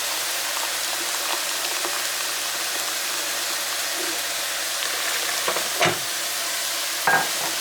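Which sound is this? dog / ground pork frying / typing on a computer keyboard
ground pork frying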